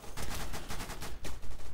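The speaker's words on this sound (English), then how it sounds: "there's so much gunfire" Gunfire in a video game, a dense, rapid burst of overlapping shots that rattles on almost without a break for under two seconds, loud and close with no talk.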